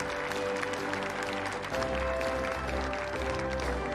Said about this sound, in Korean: 뜻깊은 발표를 해주신 광노정 사장님께 큰 박수 부탁드립니다